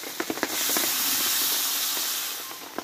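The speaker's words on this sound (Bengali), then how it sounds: "এবার এখানে আমি জলটা দিয়ে দেবো" Water is poured into a hot Bengali vegetable curry (niramish tarkari) after the spices are fried, setting off a loud, steady hiss that swells quickly, holds for about two seconds and fades, with a few clinks at the start.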